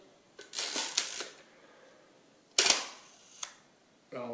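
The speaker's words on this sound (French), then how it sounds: "Vous avez entendu l'obturateur?" A Kowa Super 66 medium-format camera fires its shutter several times in a quiet room, giving sharp mechanical clicks and short whirring releases, fairly faint and close, spaced apart, with no speech.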